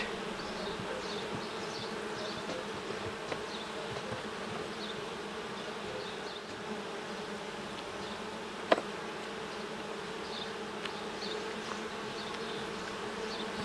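Steady, dense buzzing of many honey bees close by at an open Ukrainian-Alpine hive, a continuous hum with a single faint click partway through.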